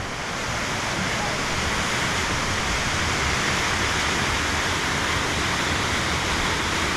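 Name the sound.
waterfall in Watkins Glen gorge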